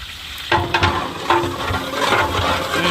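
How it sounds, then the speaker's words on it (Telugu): Onions, green chillies and whole pulao spices such as cloves and mace frying in hot oil, a sudden sizzle as they drop in, then uneven crackling and stirring scrapes, close with no speech. "వీటిలోకి ఉల్లిపాయలు పచ్చిమిరకాయలు అదేవిధంగా మసాలా పలావ్ దినుసులు ఉన్నాయి కదా అవి కూడా వేసేసామండి ఇవి బాగా వేసేసుకొని బాగా కలబెట్టి వేసుకోవాలి"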